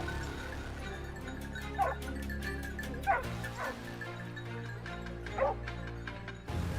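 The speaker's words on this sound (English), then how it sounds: "The sudden bark of the hunting dogs echoed" Hunting dogs bark and yip at a distance in a forest in scattered bursts, with whimpering in between, over a steady low background hum.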